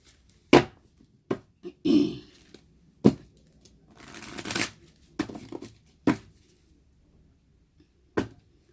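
Tarot cards being shuffled by hand, a series of short, close riffling and slapping bursts separated by pauses, with faint talk between them.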